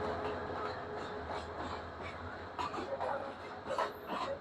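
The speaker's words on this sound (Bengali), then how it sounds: "আর এখন নাটোর রেলওয়ে স্টেশনের 1 নম্বর প্ল্যাটফর্মে প্রবেশ করছে 29-34 লোকোমোটিভ নিয়ে রাজধানী ঢাকা থেকে ছেড়ে আসা আন্তনগর বুড়িমারি এক্সপ্রেস" Burimari Express intercity train, hauled by locomotive 2934, rolls into platform 1 at Natore railway station: a steady, broad rumble of wheels and carriages with rising clanks and squeals toward the end, with faint voices and a dog in the background.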